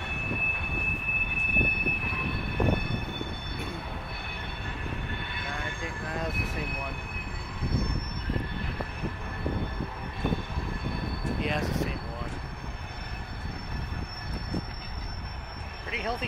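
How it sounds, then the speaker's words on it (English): Long freight train passing near the tracks at Fostoria, a steady rumble of wheels and railcars with metallic squeals, loud and continuous throughout while people talk intermittently over it. "That was kind of a long train too."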